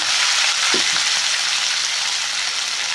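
Onions, coriander and curry leaves fry in hot oil for egg burji, a steady loud sizzle running throughout with a brief bubbling pop near the start and no voices.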